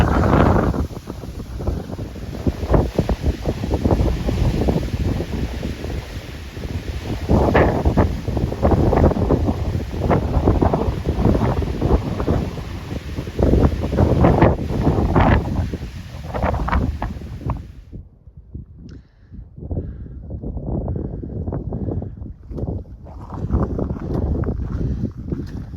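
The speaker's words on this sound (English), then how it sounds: "getting more and more exposed to the wind." Strong, gusty wind buffets the microphone on exposed mountain switchbacks along a four-wheel-drive road up Mt. Princeton in Colorado, roaring loudly and unevenly with a brief lull before the gusts return, with no talking.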